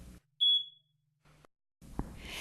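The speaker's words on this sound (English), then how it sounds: "A smoke alarm is the only thing in your home that can alert you and your family to a fire" A household smoke alarm gives a single short, high-pitched electronic beep in a quiet room, followed by faint scattered noises.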